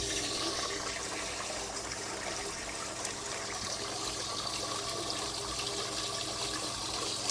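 Liquid pours steadily through an open valve into a home-brewing fermenter, a continuous close, moderately loud gushing trickle that sheets down the vessel's sides without pause and with no talk.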